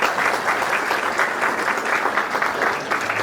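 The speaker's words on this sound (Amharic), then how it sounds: "በጣም ሞቅ ያለ ጭብጨባ" A graduation ceremony audience breaking into warm applause, a loud, close, continuous roar of many hands clapping at once for a few seconds.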